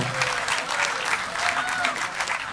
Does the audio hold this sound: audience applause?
yes